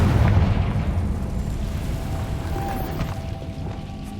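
A deep Confringo blasting spell explosion in Hogwarts Legacy, a heavy low boom at the start that rolls off into a long rumbling decay, loud and close, with no talk.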